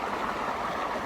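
Water from the stream at Kasat Falls rushes continuously in a broad, steady roar, close and fairly loud, with no voices over it.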